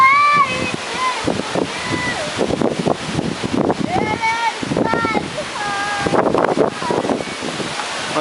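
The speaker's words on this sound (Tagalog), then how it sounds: "Grabe kay hangin." Typhoon Agaton's strong wind gusts roar in buffeting bursts against the microphone while people talk over it and a high whistling tone cuts through intermittently.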